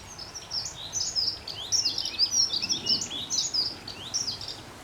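Several small birds chirp and twitter in quick bursts in a spring garden, fairly close and lively, over a quiet outdoor background with no talking.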